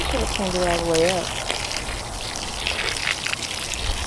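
Water from a garden hose splashes and patters into a planting hole for a Kent mango tree, a steady close trickle, with a person's voice briefly over it at the start.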